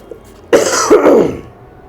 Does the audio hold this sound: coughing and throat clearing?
yes